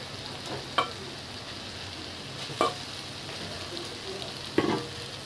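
Fried eggs sizzling in a pan of frying onions, a steady close hiss with three brief stirring clacks spaced evenly apart, no voices.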